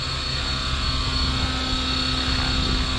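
RC helicopter flying in sport mode at about 70% throttle, giving a continuous high-pitched motor whine with rotor hum, steady and close throughout.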